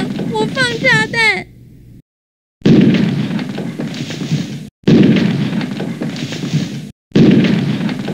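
Bomb explosions in the Bomberman video game, level 2-1, sound as three loud, noisy booms spaced a couple of seconds apart, each cutting off abruptly, after a brief cartoonish voice speaks at the start.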